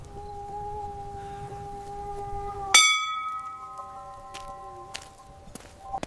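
A single bell strikes sharply near the middle and rings on with a long, shimmering decay, set against an eerie sustained drone and scattered soft knocks in a ghost-story soundscape.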